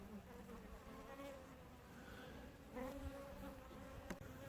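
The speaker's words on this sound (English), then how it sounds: "I got a hunk of bees down there, and they're building comb down there again." Honey bees hum around a neglected hive with comb being built, a faint continuous buzz with individual bees droning close by now and then.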